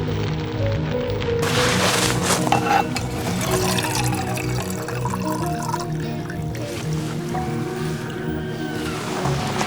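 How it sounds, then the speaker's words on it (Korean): A cup of water poured into a pan of tteokbokki at a campsite, a continuous loud splashing gush with sizzling bubbling underneath, close and sustained throughout. "이제 물 한 컵을 폭포수처럼 쏟아붓는다."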